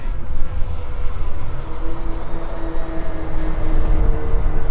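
A fixed-wing drone plane flying on autopilot and loitering overhead gives a steady droning engine hum with a rough rumbling undertone, continuous and moderately loud with no voices.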